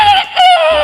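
A performer on a comedy stage show imitates a rooster crowing with his voice, a single loud, close, bright crow that rises, dips and trails off within a second.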